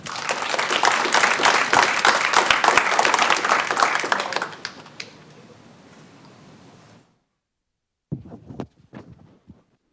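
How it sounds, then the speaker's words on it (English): Audience at a Lee's Summit, Missouri city council meeting claps vigorously for several seconds, then the applause tapers off into quiet, followed by a few scattered taps and light handling noises. "So let's give them another applause"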